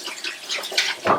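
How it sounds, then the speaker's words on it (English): Water running from a sink tap while hands are washed during cake baking, a broad hissing splash with small shifting bursts, close and steady for about a second. "I'm going to wash my hands."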